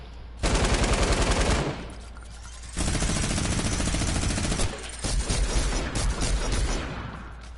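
Rapid automatic gunfire in the video game Fortnite, played in first person, loud sustained bursts with a short lull between them, no talking over it.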